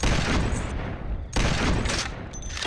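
Gunfire in the video game Carnivores Genesis, with two loud bursts about 1.3 seconds apart, each one a broad sharp blast that trails off, and no talking.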